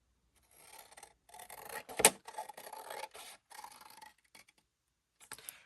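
Scissors cut a paper pocket piece for an altered CD folio in a quiet room. Close, dry raspy snips and rubbing come in short bursts with a sharp clack near the middle and pauses between cuts.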